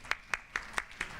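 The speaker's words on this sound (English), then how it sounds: "Give him another round of applause" Audience applause at a minority investment managers forum, heard as a run of six sharp, evenly spaced claps at a moderate distance.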